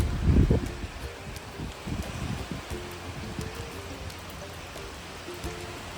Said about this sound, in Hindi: देखो ऐसी बारिश हो रही है।